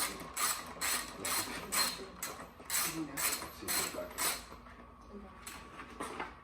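A ratchet fitted with an 8mm socket loosening the fuel tank bolts on a CR85, giving quick bursts of close clicking in an uneven rhythm that fade out toward the end.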